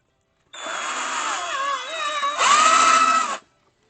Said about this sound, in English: I'm just going to pre-drill right next to it.